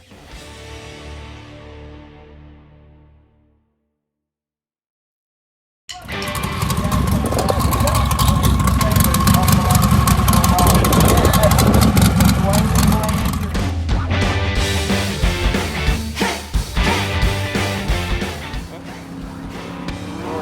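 A drag race car engine at a track event fires up: a short fading rumble, a few seconds of near silence, then a loud rough idle with lumpy revving that carries on to the end, with people talking.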